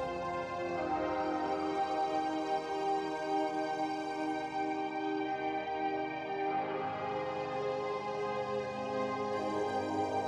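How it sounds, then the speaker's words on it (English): Synthesized bass organ tones drone continuously beneath sustained background pads, rich harmonic chords shifting slowly through transitions at an even, moderate level in a live-coded electronic music demo. "sort of a bass organ sound"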